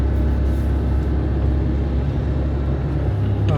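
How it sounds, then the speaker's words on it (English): A small car's engine runs steadily while driving, a constant low rumble with road noise, close and unbroken for a few seconds after an earlier gearbox fault. "As you can probably hear, Flea the car, her engine is doing quite well at the moment"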